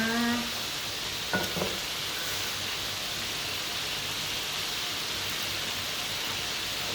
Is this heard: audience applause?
no